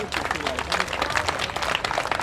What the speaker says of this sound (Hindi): तो एक जोरदार ताली कालांजलि के नाम